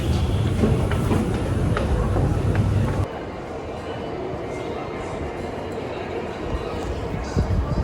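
Subway train rumbling loud and steady, then dropping to a quieter continuous drone partway through, with a noisy underground rail setting throughout.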